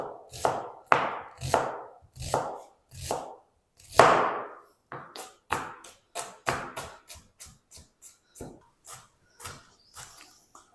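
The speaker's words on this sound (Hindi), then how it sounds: "तो सबसे पहले हम क्या करेंगे, प्याज को ना चॉप कर लेते हैं।" Onion chopped with a knife on a board while making aloo suji snacks: a close, steady series of about twenty crisp chopping strokes, loud and evenly spaced, with no talking.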